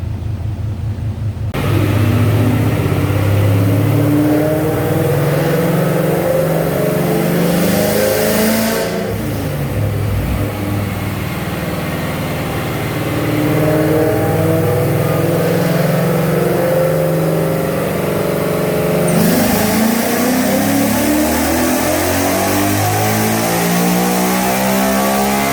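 A naturally aspirated Gen 2 Coyote V8 with basic intake-only cams on a chassis dyno, steadily loud as it revs and pulls through a long sustained run, the engine note rising and falling, no talk.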